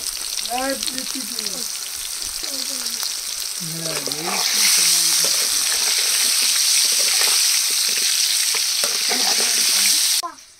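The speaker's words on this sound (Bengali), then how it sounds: "আলুগুলো ভাজা হচ্ছে" Potatoes with salt and turmeric sizzle and crackle steadily in hot oil, growing louder midway, while a person talks over it early on.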